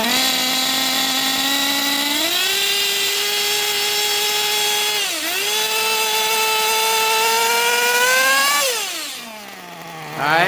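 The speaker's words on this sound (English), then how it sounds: "when I start to get into the throttle, it starts to bog" Gimar P5 nitro engine in a Hyper 7 buggy running rich, a high whining buzz that climbs in steps, dips sharply as it bogs on throttle, then drops off before briefly picking up again.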